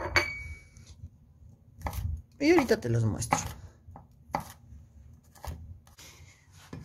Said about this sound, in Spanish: vamos a seguir picando nuestros ajitos también